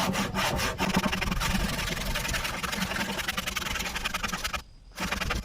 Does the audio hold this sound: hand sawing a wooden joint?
yes